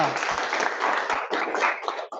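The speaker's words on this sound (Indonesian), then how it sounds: "Ya, Mbak, tepuk tangan buat kelompok 3." A small group claps briskly and close by, a dense burst of applause for a student group during a shot put teaching practice session, fading out abruptly after a couple of seconds.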